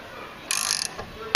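A wrench with a 19 mm socket ratchets while tightening on the front suspension of a VW Polo during a shock absorber replacement, a short burst of quick clicks followed by a few faint metallic taps, close and fairly quiet.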